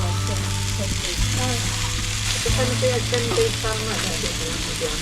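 Meat sizzles on an outdoor barbecue grill at a casual get-together among friends, a continuous crackling fry over a steady low hum, with faint background voices and clatter.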